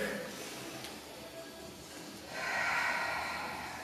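An inhalation during a stretching pause in a beginners-to-advanced HIIT workout, a soft airy breath rising in the last second and a half over a faint, steady background hiss.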